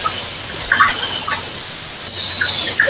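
Poultry clucks and squawks from a chicken in the video game Fortnite, several short bursts close up, with a louder sustained squawk near the end, no talking.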